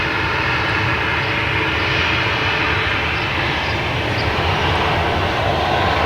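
A United Boeing 737-900 bound for Denver roars steadily at Boston Logan airport, its jet engine noise a loud, continuous broadband rumble with no break.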